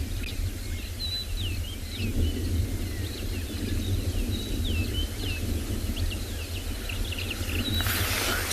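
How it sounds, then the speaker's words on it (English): Wild birds call at sunrise in an African wildlife reserve where cheetahs are being watched: faint, scattered chirps and whistles repeat throughout over a steady low outdoor rumble, with no voices. "nice to just sit and listen to the bird calls as these guys go about their business."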